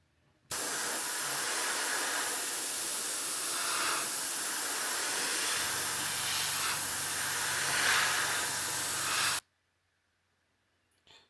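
A spray can hisses in one long continuous burst, close and steady for about nine seconds, while coating a 1/24 scale Blade Runner Metrokab model car, starting and stopping abruptly with near silence on either side.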